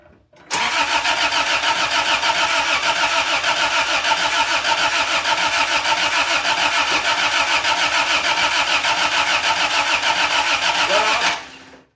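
A swapped 3A-C engine in a 1986 Toyota Tercel station wagon cranks steadily on the starter for about eleven seconds, a loud, even rhythmic churning that never catches, then cuts off.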